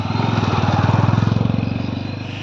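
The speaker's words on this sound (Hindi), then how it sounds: "लगता है बाइक एक और आ रही है" A motorcycle climbs a narrow mountain road toward the listener, its engine close and loud with a fast, steady thumping beat that swells and then eases slightly over a couple of seconds.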